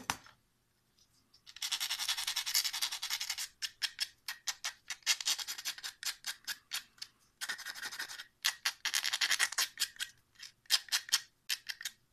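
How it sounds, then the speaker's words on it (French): Short scraping strokes of light sanding along the sides of a small green stuff and plastic sculpture, close and crisp, coming in bursts with brief pauses between them. "On va poncer un tout petit peu les côtés."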